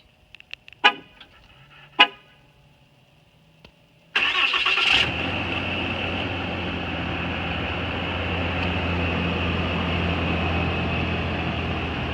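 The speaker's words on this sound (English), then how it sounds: "This key fob of this truck also has remote start." A 2020 Ram 3500 pickup starts by remote key fob after a couple of faint clicks, then settles into a steady, close diesel-like idle rumble that continues alone to the end.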